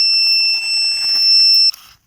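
Continuous high-pitched electronic beeping tone from a metal detector on a beach, steady and loud for nearly two seconds, then cutting off abruptly.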